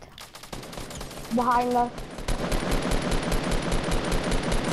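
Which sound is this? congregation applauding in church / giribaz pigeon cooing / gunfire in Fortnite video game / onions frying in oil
gunfire in Fortnite video game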